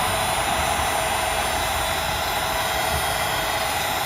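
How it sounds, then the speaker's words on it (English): A heat gun blows on tint film during a front side marker install on a 2024 Mustang, making a constant, close, loud rushing whoosh that holds steady without a break. "put some heat gun on it, and form it into there."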